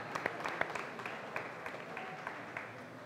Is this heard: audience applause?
yes